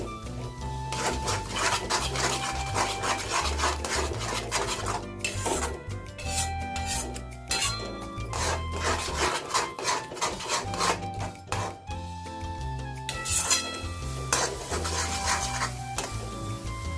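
Stirring Kathiyawadi eggplant oro in a pan gives a continuous scraping and rubbing of a spoon against the pan, with rhythmic strokes, a few short pauses and clinks, heard close with no talk.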